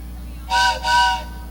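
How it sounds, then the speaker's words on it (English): A steam-style train whistle sounding during a 2005 summer concert for children, two sustained tonal blasts with a short dip between them, loud over a steady low hum, with no talk. "Wait for the whistle. Here it comes."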